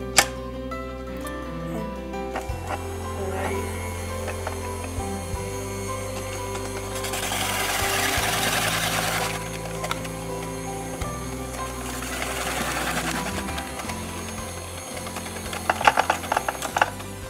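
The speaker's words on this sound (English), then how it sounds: "We can now move on to the slicing blade and slice some potatoes." A KitchenAid rotor slicer/shredder attachment hums steadily as it slices potatoes, with a mechanical drone, intermittent rattling and louder bursts of cutting noise as pieces feed through.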